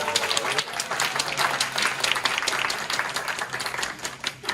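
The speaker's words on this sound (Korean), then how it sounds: "박수로 환영드립니다." Young adult church congregation at a Korean Sunday worship service applauding to welcome newly announced small-group leaders, a brisk crowd of hand claps, close and lively, with uneven bursts through the short stretch.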